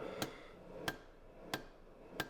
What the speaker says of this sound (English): I'm using that side die of the hammer directly in conjunction with the edge of the anvil